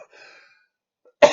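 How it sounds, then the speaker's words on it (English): A single sharp, loud cough bursts out near the mic after a faint murmur and a stretch of near silence. "That's a hardcore cough."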